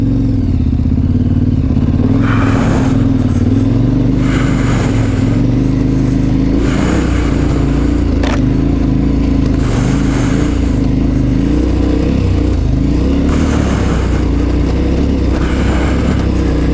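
A KTM 1190 motorcycle in off-road mode roars loudly and close as the throttle is opened, its engine rising and falling through uneven revs with mechanical clatter throughout.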